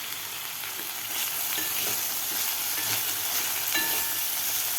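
Chopped onion and seeded tomato sizzle steadily in a hot pan for sabudana upma, with a spoon stirring and scraping at intervals, close and fairly loud, no voices.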